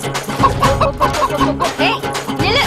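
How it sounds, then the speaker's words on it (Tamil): A chicken clucks in a quick excited series of squawks while flapping off and escaping, loud and close, with rustling movement around it. "அம்மா, கோழி பறந்துருச்சுமா."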